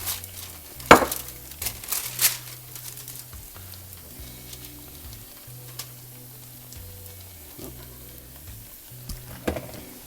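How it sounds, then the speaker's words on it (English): Previously fried plantain tostones sizzle steadily in a pan of oil, a close, even frying hiss with a couple of sharp clatters and stirring knocks near the start and another near the end. "They'll only fry for like a minute or so, because remember, you already fried them."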